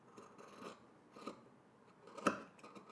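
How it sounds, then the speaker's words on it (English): Scissors trim the seam allowance of a sewn fabric shirt near the stitching, giving quiet, close snips in an uneven rhythm with a sharper cut near the end and no voices. "now I'm going to go ahead and trim, but I'm gonna start closer to the stitch and then make my way out"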